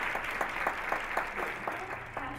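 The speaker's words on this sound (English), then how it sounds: "Let's give her another round of applause." Audience applause for a contestant at the Miss Collegiate North 2011 pageant, a steady wash of many hands clapping with a few sharper claps standing out, and a faint tonal sound creeping in near the end.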